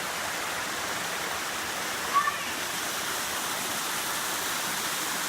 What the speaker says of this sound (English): There's the waterfall. All the water just kind of comes through here.